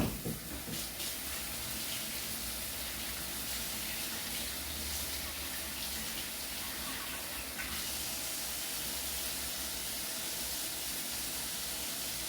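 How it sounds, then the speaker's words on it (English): Tap water runs steadily from a kitchen faucet while hands are washed, a continuous close hiss and splash lasting throughout with no talk. "I'm gonna wash my hands so I can use it."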